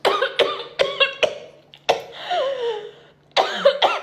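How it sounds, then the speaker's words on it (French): A woman coughs hard after choking on a grain of rice, with several loud, close, sharp coughs in bursts and a strained, raspy breath between them. "je me suis étouffée avec une graine de riz"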